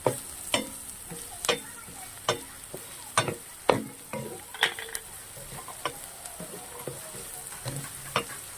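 Finely chopped green chillies frying with onions in a pan for street-style peas chaat, a steady close sizzle broken by repeated sharp clacks of a spoon stirring against the metal.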